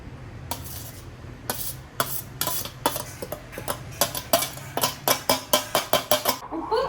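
Grated coconut being mixed into a dish with a spoon, a run of sharp scraping taps against the vessel that grows quicker and more regular toward the end, close and fairly quiet, with no talking.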